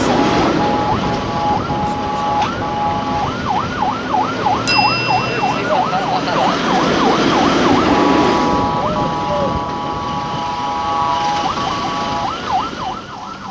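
An ambulance siren in Peru wails steadily with a rapid rising-falling yelp, loud and close over continuous traffic rumble, with a brief high beep partway through.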